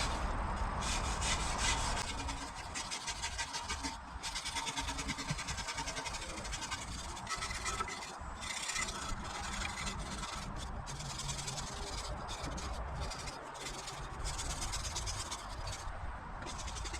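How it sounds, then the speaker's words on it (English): Wire brush scrubbing the metal body of an old Mill wood stove during restoration, a rapid, rhythmic, gritty rasping in steady back-and-forth strokes, close and fairly loud with brief pauses. "we're just gonna start wire brushing it"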